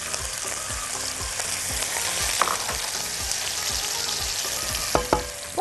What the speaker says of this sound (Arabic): وخلينا نشوح بقى البصل والثوم مكان تحمير او تشويح الجمبري